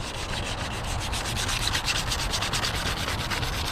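220-grit sandpaper rubs over a plastic Camaro rear diffuser in steady, rapid back-and-forth strokes, a close, continuous scratchy rasp with no voices.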